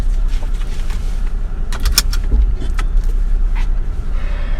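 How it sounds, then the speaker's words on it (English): Inside a 2015 Range Rover Sport, the automatic door locks fire a quick cluster of sharp mechanical clunks over a low cabin hum, loud and close, with a few fainter clicks afterward. "You heard the automatic door locks there."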